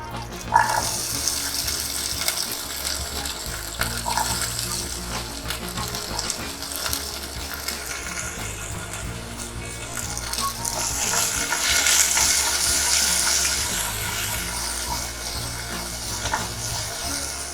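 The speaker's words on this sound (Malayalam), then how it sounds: "ചെറിയ ഉള്ളി ഒന്ന് കളർ മാറുന്ന വരെ നമുക്കിതൊന്ന് വഴറ്റാം" Small onions, green chili and ginger sauté in a pan for Kerala-style onion theeyal, giving a steady close sizzle with occasional stirring scrapes throughout, no voices.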